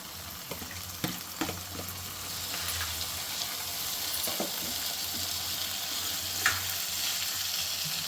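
Tomatoes frying in a pan with turmeric, ginger and garlic, a soft steady sizzle with a few faint clinks and stirring knocks, close and quiet, no voices.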